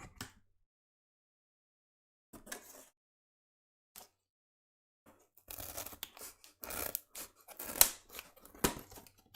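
Scissors snip through material being trimmed for a homemade pirate eye patch: a couple of faint isolated cuts, then a dense run of close, crisp crunching snips and rustles near the end.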